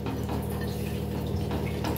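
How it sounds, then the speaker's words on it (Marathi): Water runs into a pan of frying drumstick pods, a steady close trickling and splashing rush over a low hiss for a couple of seconds. "तर यात पाणी टाकायचं आहे तुम्हाला"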